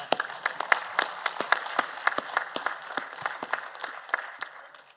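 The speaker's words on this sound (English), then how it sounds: "If you agree with me, you're free to clap." Sparse audience clapping at a conservation congress session on African protected areas, a scattering of individual sharp claps building into light, uneven applause over several seconds, moderately near with no talk.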